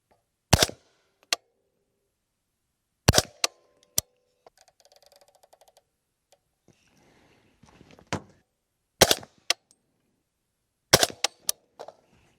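Sharp gunshots from a rifle fitted with a 7-inch Q barrel ring out outdoors in short clusters of two or three, separated by quiet pauses with faint rustling and handling noise in between.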